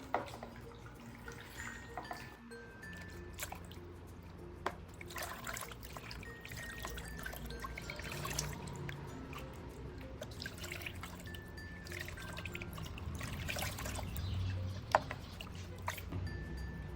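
Water trickling and dripping as aquarium driftwood and stones are rinsed in clean water, with steady low splashing and occasional sharper drips close by, no talking over it.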